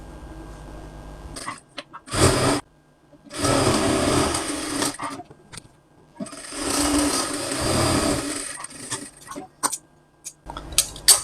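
Sewing machine stitching the sleeve of a kameez in several separate runs, each burst a few seconds long with short pauses between, close and fairly loud, with no talking.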